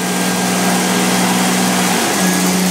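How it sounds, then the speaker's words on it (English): An engine runs hard on a dynamometer, driving a 700R4 automatic transmission. A loud, steady roar dips in pitch about two seconds in as the gearbox shifts into fourth, then carries on evenly. "Now it went into fourth gear at 140"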